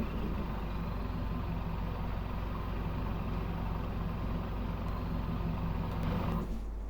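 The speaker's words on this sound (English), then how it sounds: "and here's the sound of the Mitsi." Loud Mitsubishi truck engine in a video game mod, a dense, constant rumbling roar that holds steady for several seconds before dropping away near the end.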